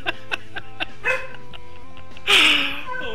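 A stressed pet dog indoors lets out a run of high, rhythmic whimpers and yips, then a louder, sharper bark near the end. Each sound is close and distinct.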